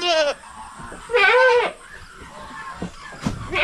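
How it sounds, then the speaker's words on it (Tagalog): A young hornless goat bleats in a few loud, wavering cries separated by quiet gaps, with a faint brief voice in between. "Guwapa na kambing to."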